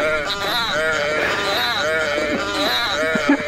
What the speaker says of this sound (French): une qui fait le bruit du mouton